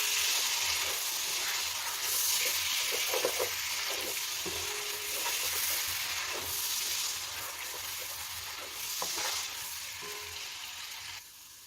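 Leeks fry and sizzle in a pan for boeuf bourguignon, giving a continuous close hiss with intermittent scraping and clacking as a utensil stirs them. No one speaks.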